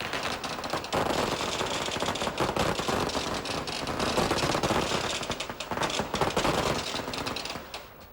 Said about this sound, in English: Three rounds of blanks fired consecutively with great precision, brilliantly executed.